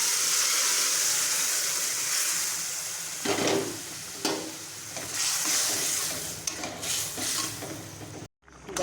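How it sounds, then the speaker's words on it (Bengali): Split peas are poured into hot oil tempered with Kashmiri red chilli powder for a bottle gourd and pea dal tadka, setting off a loud, steady sizzle that swells and bursts with stirring. "এবার আমি ডালটা ঢেলে দেব।"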